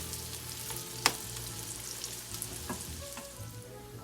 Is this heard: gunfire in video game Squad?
no